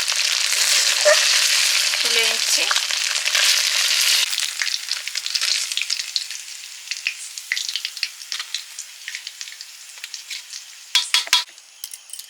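Rice frying and being stirred in a pan for Bengali mixed fried rice, a loud steady sizzle in the opening seconds that thins into scattered scrapes and clinks of a spatula, with a brief spoken phrase.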